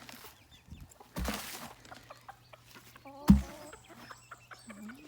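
Scattered chicken clucks and short calls come and go across a quiet yard, with a couple of louder thumps and rustles in between.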